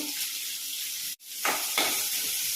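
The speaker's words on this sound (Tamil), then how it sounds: "ஆனியன் லைட்டாக செப்ரேட் ஆகிற அளவுக்கு நம்ம வதக்கி விட்டுக்கலாம் பட்டர்லேயே டாஸ் பண்ணிங்கன்னா" Onions tossed and sautéing in butter in a pan for paneer butter masala, a steady close sizzle with a brief gap partway, then stirring scrapes resuming.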